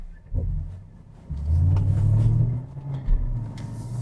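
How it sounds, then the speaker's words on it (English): Road traffic passes along a street, a low rumbling wash of car engines that swells and fades as vehicles go by at moderate distance, with no voices. "I'm going to have to wait for some traffic here real quick"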